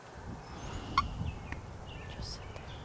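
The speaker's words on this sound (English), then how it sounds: "when they gobbled, they were like 45, 50 yards" Wild turkey gobbling in the woods during spring turkey season in Indiana, one short, faint, distant gobble rising above quiet outdoor background noise.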